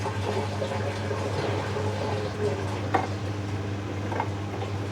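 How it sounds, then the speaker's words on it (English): Bosch Logixx 8 washing machine on a Cottons 60 WaterPlus cycle during its rinse spin, a steady low drone with sloshing water and a couple of faint clicks, continuous throughout. "Ah, spoelcentrifugeren. Rinse spinning."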